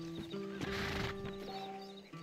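Horse in the Red Dead Redemption video game neighs loudly with a sustained whinny over the clip-clop of hooves, close and clear, with game music tones underneath.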